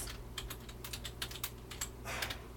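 Brisk typing on a computer keyboard as a search is entered, with irregular clusters of close, crisp key clicks over a steady low hum and no talking.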